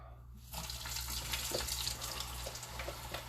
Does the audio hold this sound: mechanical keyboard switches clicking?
no